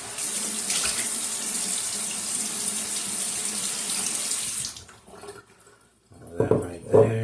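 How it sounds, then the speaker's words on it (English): Tap water runs loudly and steadily into a shaving scuttle for about four and a half seconds, then stops; a few quieter splashes follow before a voice speaks briefly at the end. "let's get a little water in the dish"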